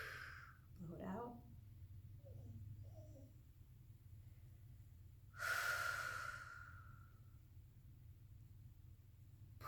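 Breath is blown out hard during a runner stretch in a yoga session, one strong rushing exhale after a fainter breath in, close and alone over low steady background hum.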